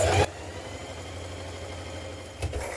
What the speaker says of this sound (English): Now we're going to do a line of ease stitching around the head of our sleeve between the notches.